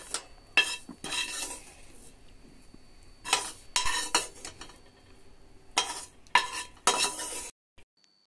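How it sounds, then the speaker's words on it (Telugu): Cumin and pepper powder being lightly roasted in a pan, heard as repeated loud bursts of a spoon scraping and clinking against the metal pan, separated by quieter gaps with a soft background hiss. "జీరా పౌడర్ని, 1/2 టేబుల్ స్పూన్ పెప్పర్ పౌడర్ని యాడ్ చేసుకొని లైట్గా రోస్ట్ చేసుకుంటున్నాను."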